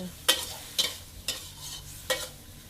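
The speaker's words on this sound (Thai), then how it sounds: "การจะรวนหมูสับอะค่ะ ให้มีความสุกสักประมาณ" Minced pork with a splash of water is stir-fried in a pan. A quiet, constant sizzle sits under four distinct scraping strokes of a spatula, spaced about half a second apart, heard close with no speech.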